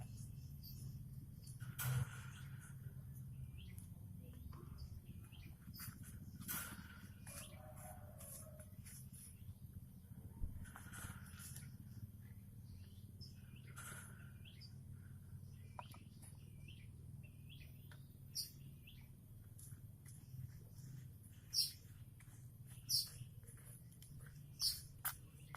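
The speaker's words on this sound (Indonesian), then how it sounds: "anakan burung manyarnya udah bunyi-bunyi, tandanya dia udah ada kelaparan ya" Hungry baby weaver birds (manyar) give short, high, thin begging chirps in scattered bursts, close but fairly quiet over a steady low hum, with no talking.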